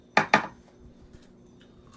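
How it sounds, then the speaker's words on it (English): Pringles chip being bitten: two sharp, close crunches in quick succession, then quiet faint chewing. "And now you will hear me eating a Pringles chip."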